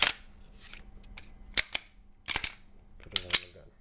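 Metallic clicks and snaps of a Glock pistol slide sliding onto its frame after cleaning and oiling, several sharp close clacks spaced irregularly with no talk.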